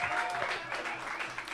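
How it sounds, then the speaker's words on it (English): Applause from an audience welcoming a band onto the stage at an evening creative showcase, steady and dense throughout, with a voice briefly audible over it. "A round of applause and off you go."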